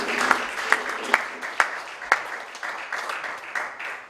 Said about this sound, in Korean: 박수를 좀.